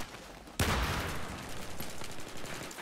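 Gunfire in a team shooter video game: after a short lull, a sudden loud burst of shots breaks out and continues as rapid, sustained fire with a rumbling tail.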